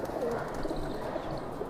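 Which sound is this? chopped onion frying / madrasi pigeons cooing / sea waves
madrasi pigeons cooing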